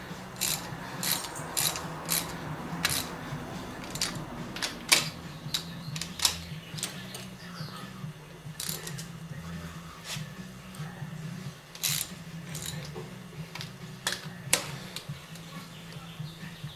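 A ratchet tightens cylinder head bolts on a Chevy 350 small-block engine rebuild, giving repeated close, sharp pawl clicking in short irregular bursts over a low steady hum, with no talking.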